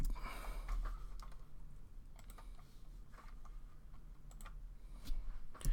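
Quiet typing on a computer keyboard, irregular clicks and key taps with a couple of louder strikes near the end, no voices.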